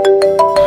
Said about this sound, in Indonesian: Aku angkat telepon dulu.